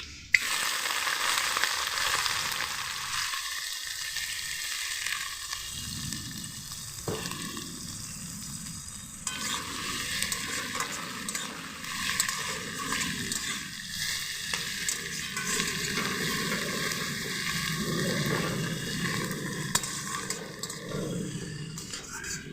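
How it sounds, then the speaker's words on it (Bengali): Onion and ginger fry in a pan with a steady hissing sizzle, punctuated by occasional scraping and stirring, close and moderately quiet with no talk. "পেঁয়াজ আদা ভাজা হয়ে গেছে"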